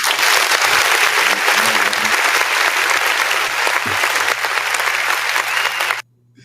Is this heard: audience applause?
yes